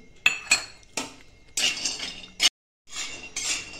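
Almonds dry-roasting in a pan for a ladoo, with sharp clinks and scrapes of a metal spoon against the pan in irregular bursts, close by, with a brief silent gap, no talking.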